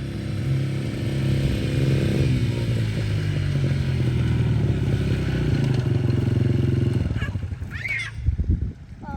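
An ATV four-wheeler runs steadily close by outdoors near a pool, its engine droning loud and continuous for most of the stretch before cutting off, followed by some clatter.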